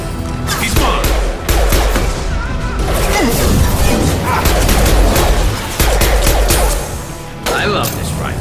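Rapid rifle fire in Mass Effect 2 Legendary Edition, loud dense bursts of shots and impacts running almost continuously over combat noise, with brief lulls between volleys.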